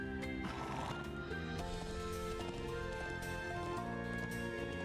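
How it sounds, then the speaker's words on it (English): A horse whinnies in the Trails of Cold Steel 4 video game, a drawn-out neigh rising over continuous game music, moderately loud and steady throughout. "It's eating the black pleroma grass. This must be the horse we heard about."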